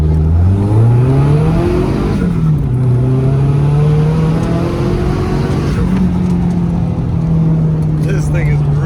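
Stock-engine Nissan 240SX revving hard under turbo boost up to 10 psi, a loud close engine note climbing and dropping in pitch through repeated pulls, with talk over parts of it.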